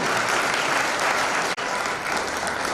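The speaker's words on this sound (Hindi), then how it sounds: "जोर से ताली बजाएंगे।" Guests at a Christian wedding ceremony applaud loudly and continuously, a thick wash of clapping with one momentary dip midway and no voices over it.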